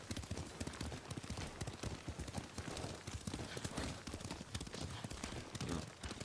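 Horse hooves clip-clop in a fast, steady gallop during riding in the samurai video game Ghost of Tsushima, a close, continuous drumming rhythm.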